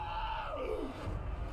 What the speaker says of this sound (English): Okay, the amount of screaming going on right now.